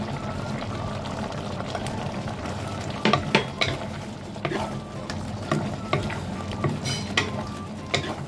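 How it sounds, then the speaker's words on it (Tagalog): Chicken feet stir-fried in a pan with peanuts, tomato paste and ketchup, a steady close sizzle broken by repeated scraping and clacking of a utensil against the pan in the second half. "Haluin na natin ng 30 seconds."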